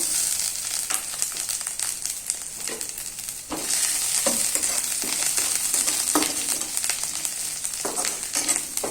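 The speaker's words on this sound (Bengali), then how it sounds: "এরপর আমি আদা কুচিটা দিয়ে দেব।" Chopped ginger sizzles steadily in hot oil in a pan, close and loud, with a spatula scraping and stirring through it in irregular strokes.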